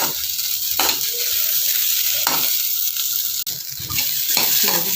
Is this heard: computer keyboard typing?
no